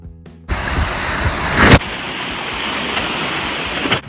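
River water splashes against a raft running rapids near Park City, Utah, a sudden rushing surge after a quiet start, then a steady loud wash of water with a sharp splash burst.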